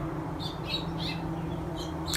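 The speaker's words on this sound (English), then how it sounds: "I do apologize for the noisy birds. They are just nuts today." Birds chirp outdoors at a log cabin building site, a few short high calls scattered over a steady low background hum, fairly close and with no one talking.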